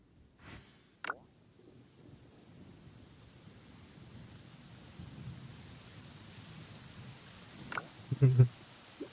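Thunderstorm with rain in the Genshin Impact video game: a steady rain hiss runs throughout, with a sharp thunder crack near the start and louder rumbling bursts toward the end.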